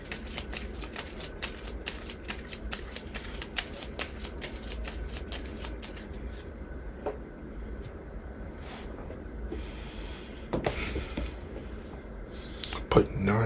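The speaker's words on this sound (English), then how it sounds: "Shuffle the counter deck." Cards riffled and shuffled on a tabletop during a Marvel Champions card game, a quick run of crisp flicking bursts that thins out partway, with a voice speaking over it and some soft handling noise.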